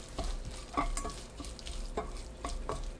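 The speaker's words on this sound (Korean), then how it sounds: "팬에 오이, 다진 마늘 1큰술, 들기름 2큰술 넣어서 섞어주세요" A spoon or spatula scrapes and stirs sliced cucumber, minced garlic and perilla oil around an unheated pan in steady, close strokes with soft wet shuffling and no voices.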